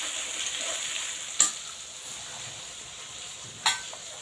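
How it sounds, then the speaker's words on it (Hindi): Garlic and ginger fry in a pan with a steady, close hiss of sizzling oil, broken twice by brief sharp clinks of a utensil stirring against the pan. "इसमें डालें लहसुन अदरक, अच्छे से भूनेंगे इसको।"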